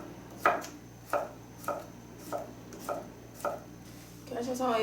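A knife chops halved zucchini into thick half-moon slices on a board, six or seven crisp, evenly spaced cuts about half a second apart, close and clear, ending in a brief scraping shuffle.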